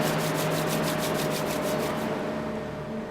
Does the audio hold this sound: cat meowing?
no